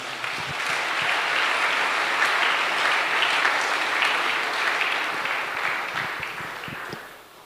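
A church congregation applauds together, a dense, steady wash of clapping that holds for several seconds and then begins to taper off.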